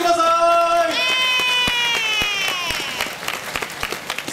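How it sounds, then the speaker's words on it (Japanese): A sustained vocal tone fades into scattered clapping that builds into applause from a crowd at a pre-game baseball stadium cheerleader show, with individual claps popping out near the end. "皆さん、今一度大きな拍手をお送りください。"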